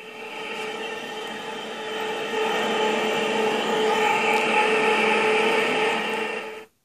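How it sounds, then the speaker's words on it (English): A train produces a droning mechanical hum layered with steady whining tones, swelling louder a couple of seconds in, holding there, then cutting off abruptly. "they muted the sound of the train"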